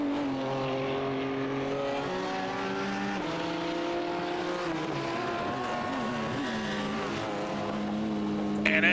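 Race cars in a sim racing game at the Belle Isle circuit, engines droning loudly and steadily together as they leave pit road, with the pitch shifting as the cars work through the gears.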